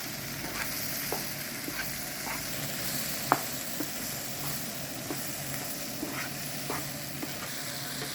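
Vegetables sizzle and fry steadily in a pan while a utensil spreads and mixes them, giving scattered soft scrapes and taps over continuous close frying hiss with no talking.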